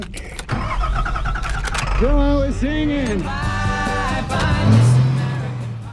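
A truck engine starts and runs in a film scene set on a sun-scorched future Earth, rising tonal engine whine and rumble, fairly close and loud, with a few sharp clunks and no talking.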